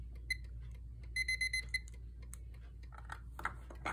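A digital timer alarm from a radio and clock collection beeps in a quick burst of rapid electronic pulses, fairly close and clear, followed by faint rustling and handling noises.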